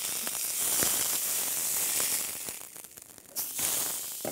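Steady, loud sizzling of tuna searing in a hot grill pan, with faint crackles and pops throughout.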